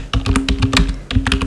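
Close, loud keystrokes on a computer keyboard, two quick bursts of rapid typing separated by a brief pause, with no voice.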